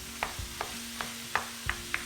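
Two pounds of ground meat sizzling in a pan with a low steady crackle, punctuated by occasional scrapes and clinks of a utensil stirring, close and quiet.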